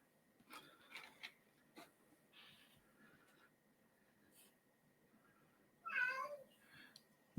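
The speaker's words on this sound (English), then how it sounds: "My cat was very concerned about it, if you can hear him." A pet cat meows indoors, a few faint scattered calls followed by one clearer, louder drawn-out meow near the end, otherwise a quiet room.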